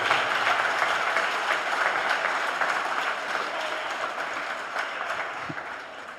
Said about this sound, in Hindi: एक बार जोरदार इन बच्चों के नाम पे तालियां हो जाए